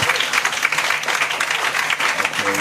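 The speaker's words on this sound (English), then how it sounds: "A round of applause." Audience applause at a maternal health summit on ending obstetric fistula, dense and steady clapping from a crowd that fills the whole stretch at even loudness.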